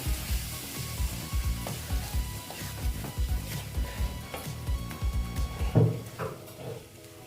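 Jackfruit curry being stirred with yogurt in a pan: soft rhythmic scraping and gentle sizzling strokes, repeated steadily at close range with a small clatter near the end.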